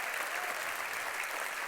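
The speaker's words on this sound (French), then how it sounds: "Encore une bonne main d'applaudissements" Steady, full applause from an awards gala audience for a musician, a broad hiss of many hands clapping at once, heard from a little distance and sustained without talk.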